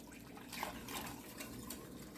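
Water runs and splashes softly into a container of gelatin powder, a faint, steady trickling with no voices.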